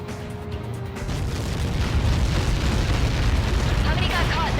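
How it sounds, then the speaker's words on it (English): A massive explosion from the Ace Combat 7 flight game swells into a loud, sustained rumbling roar that persists to the end, with faint radio voices underneath. "How many got caught in that explosion?"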